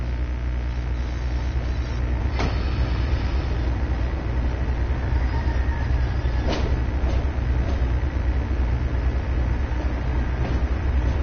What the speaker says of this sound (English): A noisy old train, isn't it?